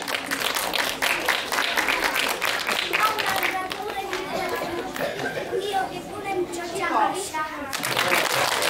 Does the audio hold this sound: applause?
yes